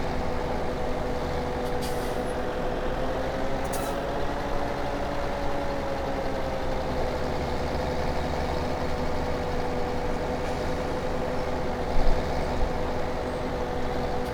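A tractor engine in Farming Simulator 2017 runs steadily at a constant idle drone, a low continuous hum with slight pitch drift, plus a couple of faint clicks and a short knock near the end.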